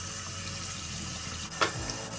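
Water runs steadily from a cold-water faucet in a home, a continuous hiss with a brief splash or clunk near the end.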